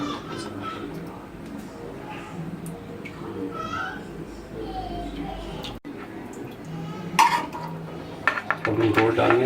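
Half-cooked mutton going into a pan for Peshawari tawa karahi, with metallic clatter and scraping of utensils against the pan building toward the end over a steady background and low murmuring voice.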